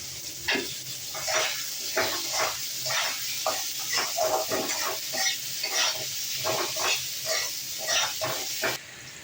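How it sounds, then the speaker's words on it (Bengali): Potatoes frying in oil in a pan, a continuous close sizzle broken by repeated rhythmic scrapes and stirs of a spatula. "আলুটাকে ভাজতে দিয়েছি"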